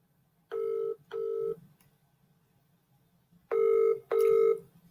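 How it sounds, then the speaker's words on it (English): UK-style ringback tone heard while calling a mobile phone: two pairs of steady double burrs separated by a long silence, clear and alone over a faint low hum. "I've got a ringtone."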